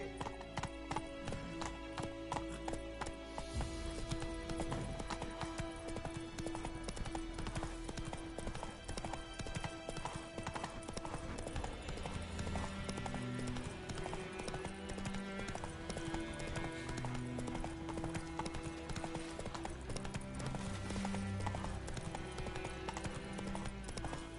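Hooves of the horse Roach clip-clop steadily at a gallop in The Witcher 3, a continuous rhythmic pounding under game music and ambience with a brief whinny.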